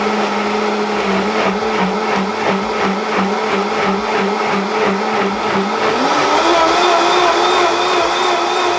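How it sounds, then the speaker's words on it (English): Loud kitchen blender whirring steadily through taco ingredients, with a rhythmic pulsing grind that shifts pitch upward near the end as the mix loosens. "So you can all go watch the video while he's blending"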